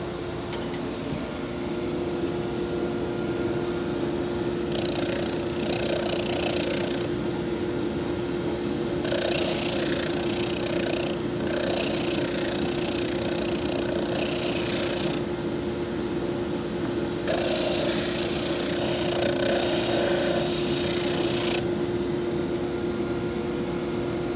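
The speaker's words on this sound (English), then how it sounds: "It's called an oscillating spindle sander." Oscillating spindle sander with a 120 grit sleeve running steadily with a constant motor hum and tone, with louder bursts of sanding as wood is pressed against the spinning drum.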